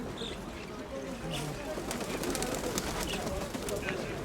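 Pigeons coo softly at an outdoor bird fair in Dnipro, low murmuring calls against crowd chatter and a busy market background.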